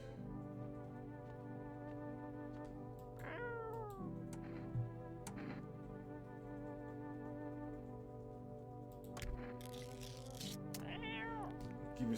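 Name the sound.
cat meowing in a video game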